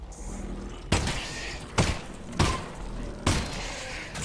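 Gunshots in the virtual reality game Half-Life Alyx: four sharp, loud shots spaced roughly a second apart, each with a brief ringing tail, close to the listener.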